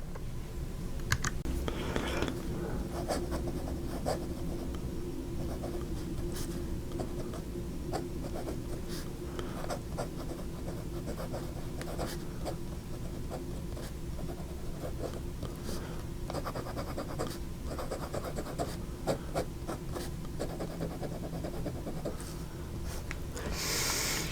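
A Jinhao 51A fountain pen nib scratching steadily across paper, with soft continuous scratches and occasional light taps, close and alone over a faint background hum.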